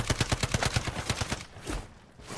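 Rapid sniper gunfire in a French-played shooter video game, a quick burst of about a dozen evenly spaced sharp shots that stops abruptly, followed by quieter background.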